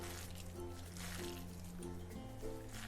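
Gram flour batter is mixed by hand with chopped onions for pakoda, a soft, wet squishing and squelching close by, quiet and continuous, with a low background hum.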